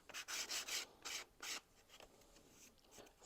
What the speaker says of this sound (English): And so I'm going to fold it, and then I'm going to sand along the edge.